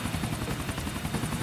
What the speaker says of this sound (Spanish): Total, en helicóptero vamos mucho más rápido ahora que tenemos helicóptero.